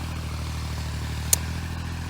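A small tractor engine runs steadily at a low idle-like drone in the background, with one brief sharp clatter partway through and no talking.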